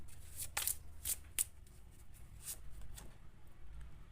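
Tarot cards being shuffled and drawn, giving soft papery riffles and several sharp flicks at a close, quiet distance with no talking.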